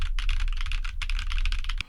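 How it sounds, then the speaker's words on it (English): Computer keyboard with Newfie Rose Glacier tactile switches typed on rapidly, captured by a Dynacaster DCM3 dynamic mic on a boom arm about 10 inches away; dense, steady keystrokes, close and loud, no voices. "This is a keyboard typing sample of the Dynacaster DCM3 with the microphone positioned about 10 inches away from the keyboard on a boom arm"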